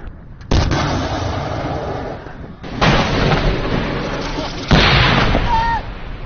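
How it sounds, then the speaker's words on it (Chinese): Military artillery fires during a high-altitude field exercise, with three loud booming blasts that each roll into a long rumbling decay. "炮兵群就转移至2号预定地域，继续向敌展开猛烈打击"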